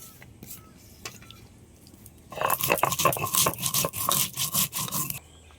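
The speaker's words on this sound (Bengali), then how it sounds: "ভেজে রাখা এই মশলাটা এবার বেটে নেব" Fried spices ground into a paste on a stone, with quiet scraping at first, then a run of loud rhythmic rubbing strokes lasting a few seconds before stopping.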